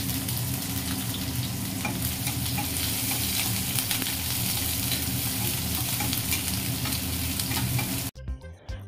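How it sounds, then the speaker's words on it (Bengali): Onion sizzles in hot oil with whole spices for tempering, a steady loud frying hiss under stirring that carries on without pause and then cuts off abruptly near the end, with no talk. "তো পেঁয়াজটা দিয়ে দিয়েছি তেলে, ফোড়নে পেঁয়াজটা দিয়ে দিয়েছি"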